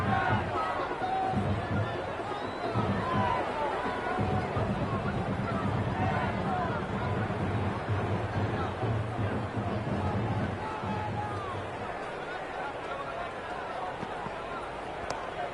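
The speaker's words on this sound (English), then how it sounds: "There's an almost tangible fervour throughout the crowd at the moment." A stadium crowd in the cricket video game Cricket 26 keeps up a continuous background roar and babble, with speech running over it throughout.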